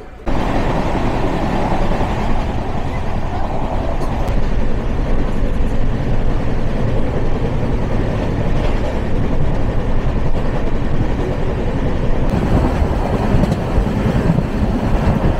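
Steady, loud rumble and rattle of a passenger train from Adra running at full speed in heavy rain, heard from inside a carriage as a continuous dense roar with no breaks.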